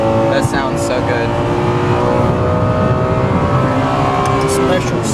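A Lexus LFA V10 supercar engine revs with a loud, steady high-pitched wail heard from inside during a ride, rising slightly toward the end.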